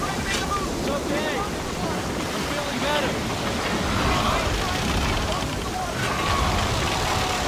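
Ocean waves roll and wash continuously in Peter Jackson's King Kong video game, a broad steady surf roar with gusty wind, under faint voices talking.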